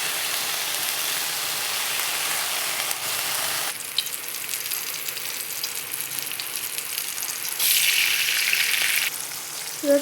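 Garlic and onion fry in a pan with a continuous close sizzle that swells and fades, getting briefly louder and brighter near the end, with no talking.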